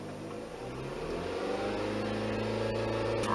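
A car engine idling and being revved during an overheating and antifreeze check, its steady hum slowly rising in pitch and loudness over a few seconds.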